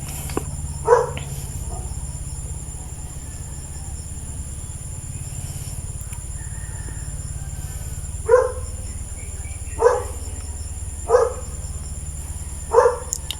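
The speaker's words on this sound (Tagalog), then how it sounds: "may aso na tumatahol. Aso namin." A dog barks once, then several more times in a loose series later on, against a constant high insect or cricket hum.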